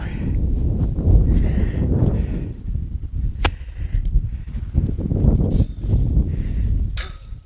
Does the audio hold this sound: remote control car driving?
no